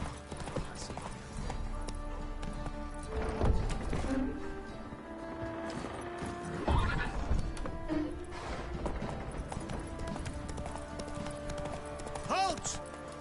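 In the video game The Witcher 3, a horse's hooves clip-clop in a steady rhythm and the horse neighs now and then, with game music and characters talking throughout.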